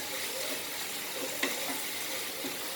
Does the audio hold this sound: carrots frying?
yes